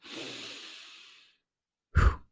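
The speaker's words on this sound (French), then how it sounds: "tu vas prendre une grande inspiration" A deep breath drawn in and released, a long airy exhale fading over about a second, then a brief, louder close-up breath or sigh after a short silence; no talking.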